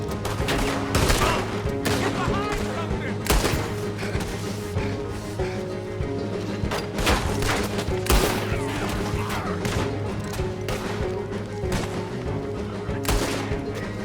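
Rapid gunfire in Red Dead Redemption 2 during a headshot accuracy challenge: dense, loud shots crack one after another across the whole stretch over a steady droning musical background.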